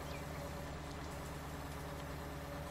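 A tractor engine idles steadily in Farming Simulator 19, a continuous low rumble with a constant hum, close and unbroken throughout with no talking.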